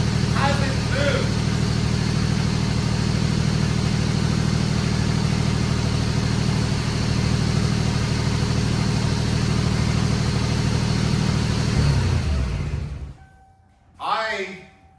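A Ford Mustang engine runs steadily at about 1,500 RPM with a deep, constant exhaust drone that holds for about twelve seconds, then cuts off abruptly, followed by a brief voice.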